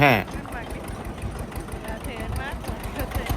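A small diesel engine of a Kubota KRT140 Plus ride-on tractor idles steadily close by with a rhythmic chugging knock and a faint high whine.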